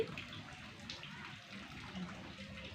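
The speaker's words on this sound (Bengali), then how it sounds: "আমগুলোকে পেড়ে ধুয়ে নিতে হবে, তা আমি ধুয়ে নিচ্ছি" Mangoes washed by hand in water give faint, close splashing and trickling, with soft sloshes and a few drips at low level and no talking.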